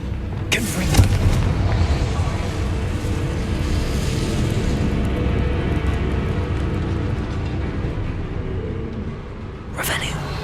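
In the video game Hogwarts Legacy, a Confringo spell blasts out as a deep, rumbling boom that swells into a sustained roar and then fades, followed by a sharp crack near the end.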